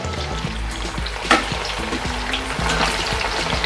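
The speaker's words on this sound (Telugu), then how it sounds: "నూనె చిట్లుతుందండి, వెనక్కుండా వాసన వస్తుంది." Sliced ivy gourd frying in hot oil with grated coconut, a loud, close, continuous sizzle and crackle of spattering oil, with occasional stirring scrapes and taps of a spoon against the pan.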